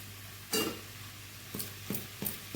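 A spoon stirs ivy gourds cooking in a pan, four short scraping clinks spaced irregularly over a quiet background hum, close and moderately loud.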